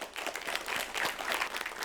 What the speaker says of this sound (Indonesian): Tepuk tangan bagi sahabat-sahabat yang ada di studio